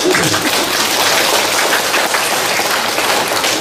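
Dense, steady applause from a large audience at a Buddhist monk's question-and-answer talk, loud and continuous throughout with no voices over it.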